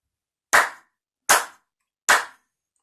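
Three crisp, evenly spaced hand claps in a quiet room, each sharp and close with a short decay, forming a simple steady rhythm.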